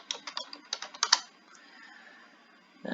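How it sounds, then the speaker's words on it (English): Keystrokes on a computer keyboard while entering a search on the main Google search page, a quick irregular burst of close, crisp taps followed by quiet. "I'm going to type in Google Books."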